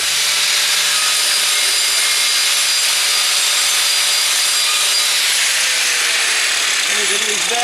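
A power tool grinds mortar out of a brick wall during repair work, producing a loud, steady, rough whine that runs unbroken throughout, with the motor pitch dropping slightly near the end.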